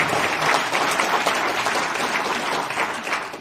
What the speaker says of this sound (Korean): 박수를